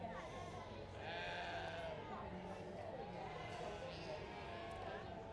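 Dutch Spotted sheep bleat at a livestock show at the Royal Welsh Show, several wavering calls rising over a busy crowd murmur and chatter, moderately distant and fairly quiet.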